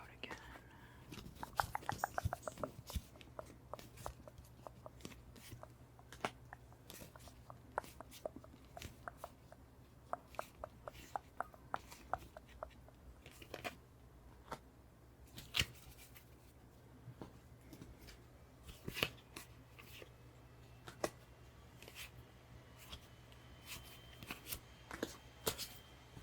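Tarot cards handled and shuffled up close, a dense run of crisp papery flicks and riffles, strongest early on, then scattered taps and slides, with soft whispered talk underneath.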